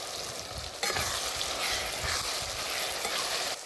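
Dried Kashmiri chilies and bay leaves sizzle steadily in hot oil for a chicken curry, with a continuous loud frying hiss and a brief burst of stronger crackle near the start.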